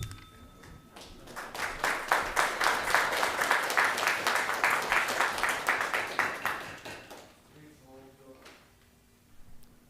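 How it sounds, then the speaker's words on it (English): At a Lawrence City Council public participation session, a room breaks into steady, even rhythmic clapping for several seconds before it fades out and someone speaks. "Please hold your applause for the end of the public participation."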